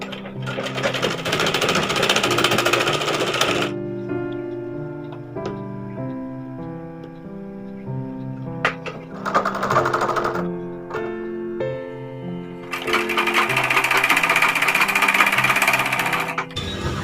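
A sewing machine stitches the folded-over edges of a length of fabric at a tailoring lesson, running in steady mechanical bursts with a brief pause around the middle before speeding up again.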